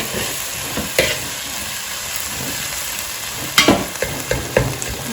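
Tomato masala frying in oil in a pan for prawn biryani, a continuous loud sizzle with a few scraping stirs of a spoon near the end.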